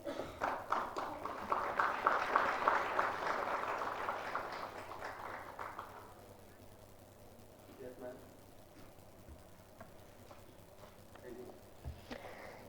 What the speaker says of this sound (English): Big round of applause for all our speakers and the moderator, Professor Helen Lochhead.